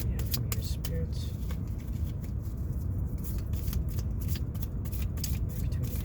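Tarot cards being shuffled by hand, a steady run of soft riffling and flicking strokes throughout, with quiet background noise and faint voice underneath.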